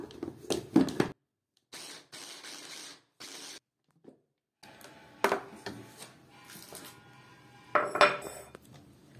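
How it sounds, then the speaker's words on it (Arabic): Lemon juice, vinegar and ground coriander are whisked together in a bowl, close bursts of clinking and scraping from a utensil against the bowl separated by short silences. "معايا دي عصرة ليمونة مع معلقتين خل، مع معلقة كزبرة مطحونة. نديها ضربة بقى"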